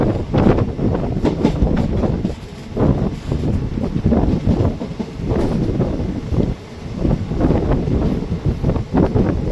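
A Guruvayur Express passenger train runs steadily along the rails, its loud rolling rumble marked by recurring clattering bursts from the wheels, with wind buffeting throughout and nobody talking.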